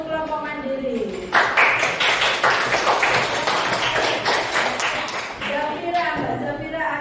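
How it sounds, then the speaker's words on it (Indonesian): Applause from a classroom audience for a presenting discussion group, a burst of many hands clapping that starts abruptly, stays fairly close and lively, then thins out near the end. "Kita beri aplaus untuk kelompok mandiri"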